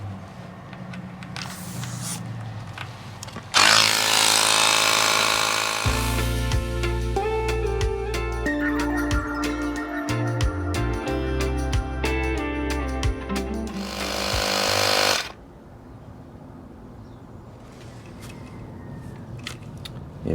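A battery-powered Ryobi pump switches on with a loud, steady motor whir that runs for about twelve seconds and then cuts off abruptly, with quieter ambient noise before and after and no talking.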